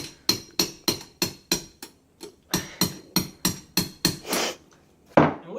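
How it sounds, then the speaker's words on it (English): Hammer blows driving something into a pickup truck being decorated for Halloween, a fast rhythmic series of sharp close strikes in quick bursts with a short pause midway, loud and clear with no talking. "I think I can hammer it in"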